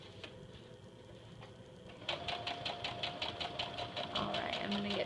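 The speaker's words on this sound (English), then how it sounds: "now I'm going to stitch forward down this side." A sewing machine stitches a stuff sack, starting slow and then running into a fast, even rhythmic clatter of needle strokes, close by, with a voice talking briefly alongside.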